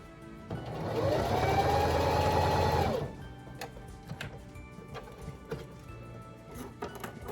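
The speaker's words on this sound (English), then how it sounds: "So just sewing that up, making sure that I get a good stitch on it, a nice sturdy stitch" A sewing machine stitches a thrifted placemat into an outdoor pillow, giving a close, steady motor whir for about two and a half seconds before stopping, followed by faint clicks and handling noises.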